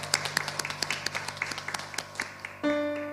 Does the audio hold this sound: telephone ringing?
no